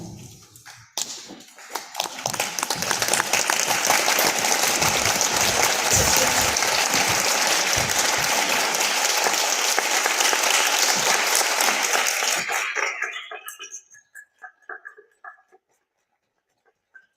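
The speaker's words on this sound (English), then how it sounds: "let's show our appreciation with a big round of applause" Large audience at a live-streamed formal competition applauding as the judges exit, building quickly into sustained loud clapping for about ten seconds before fading out to a few scattered claps.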